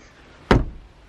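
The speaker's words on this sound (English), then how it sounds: "Close the door." A door at a holiday village closes with one sharp thud, close and loud, followed by brief rattle and quiet room tone.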